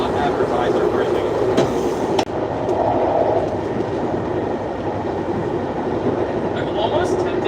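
Northstar commuter train heading to Downtown Minneapolis, heard from inside as a steady loud rumble and wheel clatter on the rails, with a faint squeal and a couple of sharp clunks.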